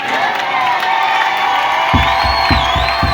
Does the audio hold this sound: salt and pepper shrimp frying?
no